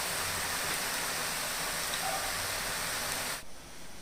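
Ribbon pakoda frying in hot oil on a medium flame, a steady, dense sizzling hiss that drops suddenly to a quieter bubbling near the end, close and alone.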